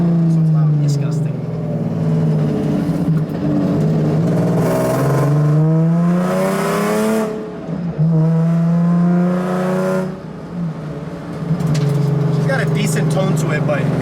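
A Nissan VQ-engined pro-am drift car from 2024 revs loudly up close, its harmonics climbing and falling across several rising pulls with short dips between them, while a voice is heard over it.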